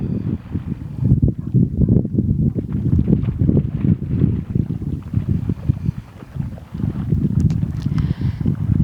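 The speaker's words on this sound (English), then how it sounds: "any gentle rustling of the waves." Soft, low water sounds wash and roll continuously, mixed with a gentle rumble of wind, with no voices present.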